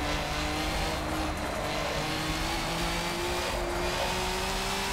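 Steady, loud engine roar of an older car accelerating in the Forza 7 racing game, its whining pitch climbing gradually with tire and road noise underneath.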